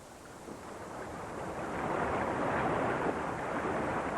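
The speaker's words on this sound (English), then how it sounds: "all the rescue team could hear was the noise of crashing waves" Crashing ocean waves picked up at sea by a floating sonar buoy microphone form a steady, roaring wash that swells louder partway through, with no voices.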